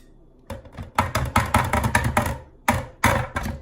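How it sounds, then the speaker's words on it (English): A big spoon clattering and knocking against a bowl while a salad with black-eyed peas and smoked ham is mixed, a fast irregular run of sharp clinks and scrapes, close and fairly loud, with a short pause partway through. "I'm making all this noise, and I know that this spoon won't fit in there"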